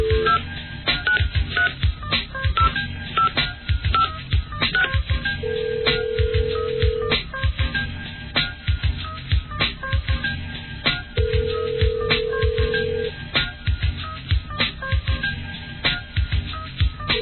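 Telephone dialing tones sound as a few short steady beeps amid a busy, crackly background of clicks and muffled noise, heard at moderate loudness on a narrow, phone-like line.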